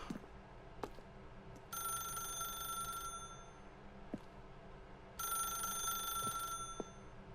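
An old-style telephone bell rings in The Stanley Parable, two bright electronic ring bursts of about a second and a half each, separated by a pause, over a low room hum and faint ambient clicks.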